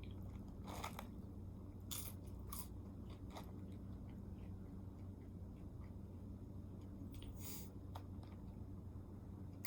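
Crispy KFC fries eaten up close, with sharp intermittent crunches and bites every second or so over a low steady background hum.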